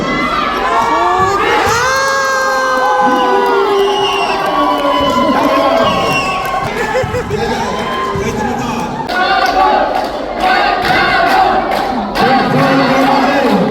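A crowd at a seniors basketball game roars and cheers loudly, with high children's shouts and whoops rising over a dense wall of voices, and a few thuds from the court.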